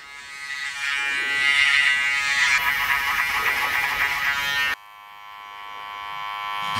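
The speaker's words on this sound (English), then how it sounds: "My shavers now. Again, just working very low up into where the trimmers" An electric shaver buzzes close up through a skin fade haircut, a steady bright whine that shifts pitch as it works against the head, then drops to a quieter hum near the end.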